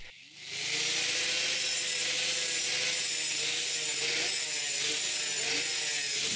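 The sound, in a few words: scratching painted concrete blocks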